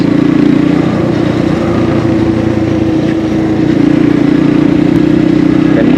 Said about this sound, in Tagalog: meron ako nakikitang motor na dumadaan